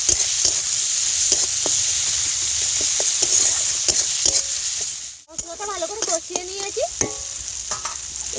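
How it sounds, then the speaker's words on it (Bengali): Ground coriander, cumin and Kashmiri chilli powder sauté in a pan with steady sizzling and repeated scraping strokes of a spatula, then a brief pause and sharper clinks and stirs close by. "এবার মশলাটা একটু ভালো করে কষিয়ে নেব।"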